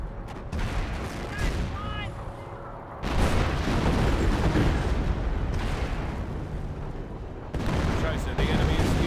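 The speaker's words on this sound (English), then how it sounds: "Barrage running on in." An artillery barrage pounds a battlefield in Company of Heroes 1, with repeated loud booms and crackling blasts rolling into one another, along with distant gunfire and a voice talking over the din.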